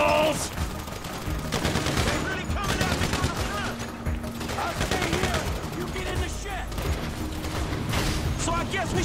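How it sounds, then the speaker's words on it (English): Dense rattling gunfire in a chaotic shootout in Grand Theft Auto V, overlapping bursts of automatic and single shots close by, with shouting voices mixed in throughout. "We're shooting our way out of here!"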